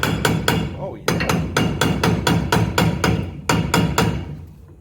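Sharp metal hammer blows ring out close and loud during a brake job on a Dodge Ram 1500, about a dozen strikes in an irregular but steady rhythm with brief pauses.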